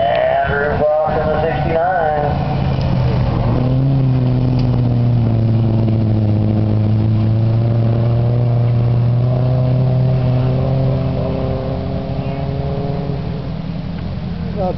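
Hornet class race cars circle Northport Raceway in a main event, their engines a loud, steady drone whose pitch swells and sags as the pack passes through the corners.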